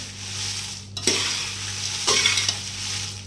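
Dry Kashmiri red chilies roasting in a pan over a high gas flame make a continuous dry hiss and crackle. A few distinct scraping stirs stand out, and nobody speaks.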